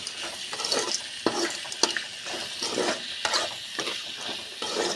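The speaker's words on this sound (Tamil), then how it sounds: "நல்லா அடி பிடிச்சிடாமல் அடிக்கடி கிண்டி விட்டுக்கிட்டே இருக்கணும்" Vegetables stirred in a cooking pan, a steady scraping and sizzling with repeated strokes of the spoon throughout, close and moderately loud with no talk.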